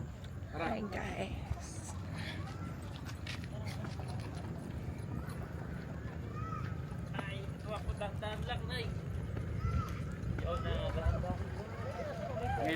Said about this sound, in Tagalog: Ngayon makakakita ng kabayo yan.